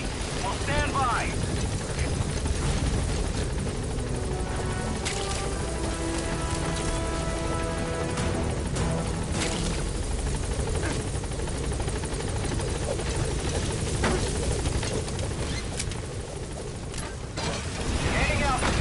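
The Pequod helicopter waits at a landing zone in Metal Gear Solid V, a steady loud rotor drone with rain-like hiss throughout, mixed with game sounds and voices.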